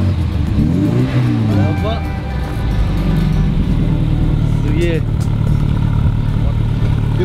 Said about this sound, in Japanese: これ 排気 音ですよ、 後ろ。